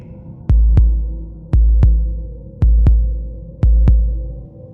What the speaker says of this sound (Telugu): ఒక్కసారిగా నా గుండె దడ పెరిగింది.